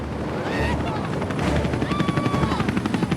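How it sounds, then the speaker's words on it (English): U.S. Marines military helicopters on training maneuvers pass overhead, producing a loud, steady rotor roar with a rhythmic chopping pulse that grows stronger toward the end, with no talking. "The helicopters belong to U.S. Marines who are on training maneuvers"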